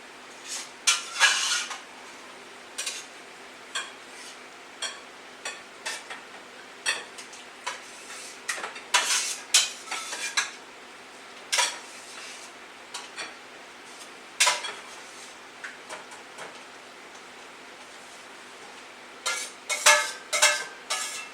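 Freshly harvested aquaponic Swiss chard cooks in pots and pans: scattered clinks, taps and utensil scrapes against cookware come at irregular intervals over a faint background, close by and with no one talking.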